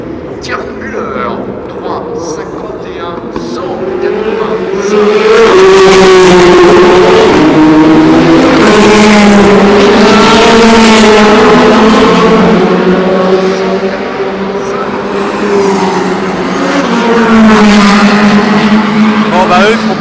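Race cars scream past during Le Mans 24 Hours qualifying in 2016, their rising and falling engine notes running under continuous French commentary from start to finish.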